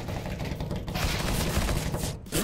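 Bursts of gunfire in Counter-Strike crackle almost continuously: loud, busy shots with mechanical clatter and a few thuds layered on top.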